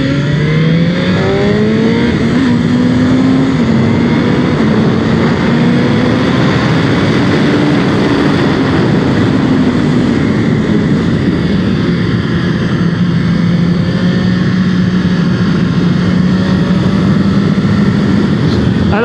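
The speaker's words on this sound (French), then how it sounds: "je vous propose de me retrouver en piste à nouveau sur le circuit Dijon-Prenois au guidon de cette M1000RR" A 2021 BMW M 1000 RR superbike is ridden hard around the Dijon-Prenois race circuit, its engine a loud, continuous high-revving howl that rises and falls through gear changes, close and unbroken.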